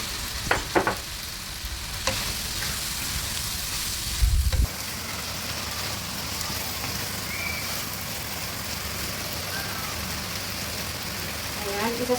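Potatoes sautéing in a pan with pepper and aromatics, a steady broadband sizzle and frying hiss throughout, with a few clattering stir bumps early on, moderately close.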